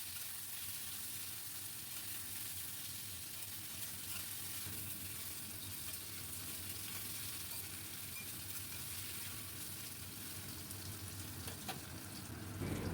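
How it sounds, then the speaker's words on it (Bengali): Boiled taro stolons fry in mustard oil with chilli and nigella seeds, a steady, dense crackling sizzle that runs unbroken and evenly loud throughout with no voices. "খুব ভালো করে ভাজবো।"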